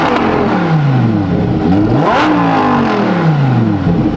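A Lamborghini STO on a test drive after a radiator replacement, its engine revving up and down through rising and falling pitch sweeps, loud and close throughout.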